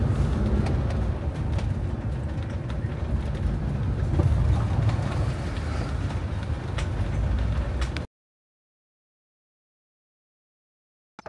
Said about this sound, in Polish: Spotkanie z ciężarówką.